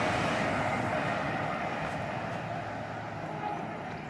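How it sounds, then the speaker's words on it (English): An IET train running on electric power passes by Sonning Road overbridge, giving a steady, loud rolling roar that holds for the whole stretch and eases only slightly toward the end. "coming now is an IET of some description. Running under its own electrical power."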